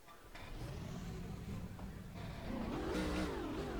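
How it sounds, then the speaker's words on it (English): Race car engines start and rev in the NASCAR Racing 2003 video game, a constant low engine drone that builds into rising, wavering revs toward the end, heard without voices. "Drivers, start your engines."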